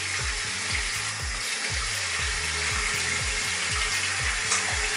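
Running tap water fills a bathroom sink for face washing, a steady close rushing stream with no voices.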